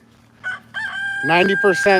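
Chickens in Austin, Texas during a solar eclipse, with a rooster crowing loudly and close after a couple of short clucks, the crow rising and holding for over a second.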